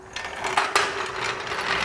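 A ratchet with a 19mm socket snugs the strut bolts on a Kia Optima, giving a quick run of close, dry clicking pawl strokes with a couple of sharper metallic knocks.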